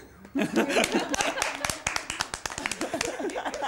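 Several people clap briefly, with scattered sharp claps and chatter and light laughter over them, fairly close.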